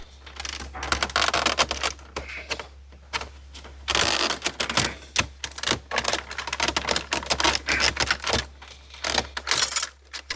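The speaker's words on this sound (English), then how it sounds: "It's just the trim rings coming off." Plastic trim rings being pried off a Land Rover Discovery dashboard with a pry tool, a dense run of sharp clicks, snaps and rattling crackles, close and fairly loud, with almost no talk.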